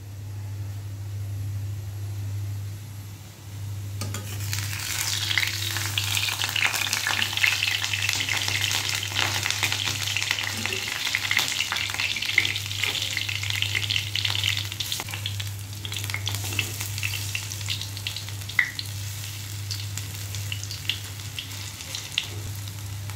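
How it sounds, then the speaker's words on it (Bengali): Lentil fritters frying in a pan of oil, a dense close sizzle that starts a few seconds in and bubbles on steadily with crackling spits over a low hum. "দেখেন বড়াগুলো কত সুন্দর তেলের মধ্যে ভাজা হইতেছে"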